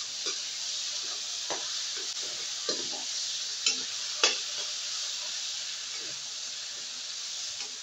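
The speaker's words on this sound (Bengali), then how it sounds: "চিংড়ি মাছটা ভাজিয়ে নিলাম" Prawns frying in a pan with a steady hiss of sizzling oil and occasional scraping stirs and taps of a spatula, close by.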